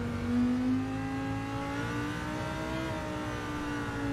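A Lamborghini Huracán GT3 race car engine in the video game Gran Turismo 7 drones steadily at a fairly constant pitch, with the tone rising and falling slightly as the car accelerates, and no talk over it.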